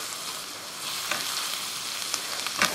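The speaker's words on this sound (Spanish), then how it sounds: "Ahora sí, ahí la vamos a dejar saltear" Potatoes sauté in a hot pan, giving a steady close sizzle and crackle with occasional scraping stirs and pops, without any talk.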